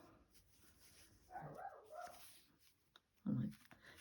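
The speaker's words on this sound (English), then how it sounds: "Oh, my neighbour's dog is yappy." A neighbour's small dog yapping a few times in the distance, faint short yips followed by a louder single bark, heard from indoors with no talking.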